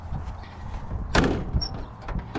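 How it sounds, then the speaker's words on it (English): A 1957 Citroen 2CV door lifted off its big sliding hinges gives one sharp, close clunk of metal, followed by a lighter knock and faint rattles against a quiet background. "You can remove one of these doors simply by lifting up. It come right off if you want to."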